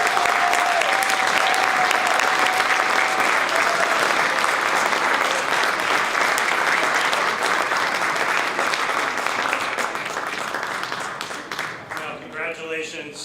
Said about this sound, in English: Why don't we give them one more round of applause